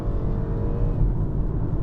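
Low engine rumble of a 2018 BMW X1 xDrive28i accelerating in sport mode holds steady and strong under a faint whine, a close in-cabin drone with no talking.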